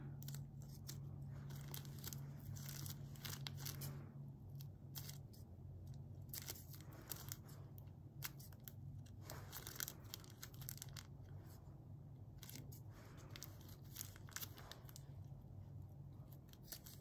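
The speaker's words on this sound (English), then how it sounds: "now you're gonna cut it into strips" Scissors snip repeatedly through thin material, cutting strips for craft jellyfish tentacles, with close, crisp irregular cuts over a faint background hum.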